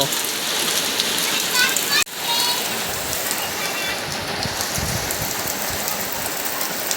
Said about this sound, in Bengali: অনেক বৃষ্টি এ শুরু হয়ে গেছে